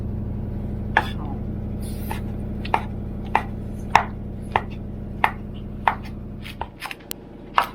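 A knife chops garlic, coriander root and pepper finely on a cutting board for Thai fried spring rolls. Sharp, evenly spaced chops land about once a second over a steady low hum, with a few quicker taps near the end.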